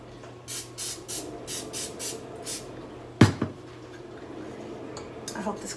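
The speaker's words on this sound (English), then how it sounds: "so I use olive oil spray." A short, sharp burst of olive oil cooking spray near the mic, with light kitchen clatter and rhythmic brushing sounds before it.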